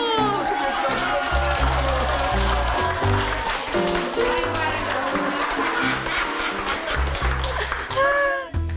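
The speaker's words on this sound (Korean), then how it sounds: "박수 보세요, 박수." Audience applause at a Jeju dialect quiz contest in Aewol: steady crowd clapping over heavy rhythmic music and a talking presenter, loud and sustained, ending with a brief swell near the close.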